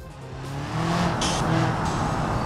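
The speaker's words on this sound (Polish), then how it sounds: "tam jakaś turbosprężarka wchodzi do gry przy wyższych obrotach" A car engine in the BeamNG driving game revs up as its turbocharger comes in at higher rpm, a loud, continuous, rising roar with a brief hiss near the middle.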